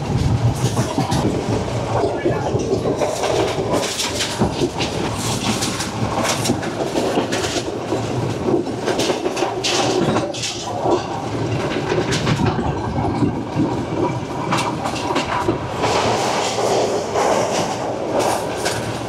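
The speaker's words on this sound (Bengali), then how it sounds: "ঝকর ঝকর আওয়াজ করে ছুটছে রেলগাড়ি" A train on the seaside Colombo to Galle railway in Sri Lanka clatters loudly and continuously, wheels clicking over rail joints with a dense rumble throughout, heard from on board.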